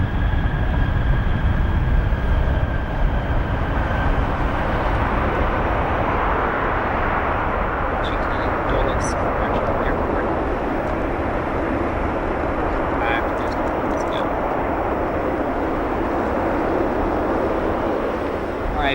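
A Boeing 787 from Washington arriving at O'Hare airport gives off a broad, steady engine roar, loud throughout with faint scattered chirps and a sustained whine.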